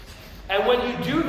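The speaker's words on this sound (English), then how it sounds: "Breathe in with your nose, breathe out with your nose, and eventually build it up so that this becomes automatic." Fast fire breathing through the nose during an instructional session: quick, sharp rhythmic sniffs and exhales, close and fairly loud, starting softly then intensifying midway with a brief pause before resuming.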